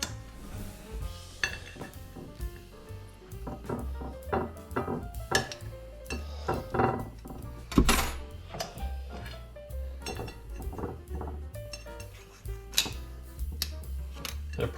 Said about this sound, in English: I'm just going to take them off the skewers and serve them